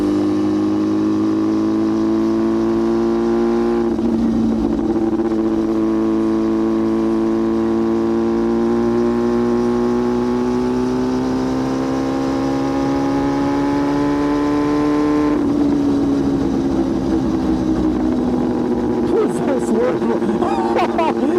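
A loud Yamaha R6 sport motorcycle engine drones and revs continuously while being ridden, its pitch climbing steadily through the gears with a shift near the middle, with wind noise throughout.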